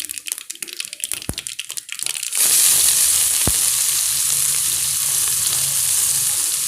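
Onions with fennel seeds go into hot oil in a pan, starting as a few light crackles and taps, then bursting into a loud, steady, close sizzle that holds to the end, with one sharp knock partway through.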